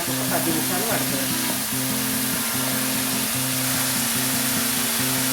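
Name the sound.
carrots frying in oil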